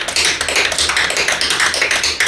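Rapid, crisp tap dance steps click and shuffle in a quick rhythmic flurry, close and loud with no voices.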